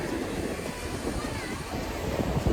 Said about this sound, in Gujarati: મોટી મોટી ઊંચી પાણીની ધારા આવે છે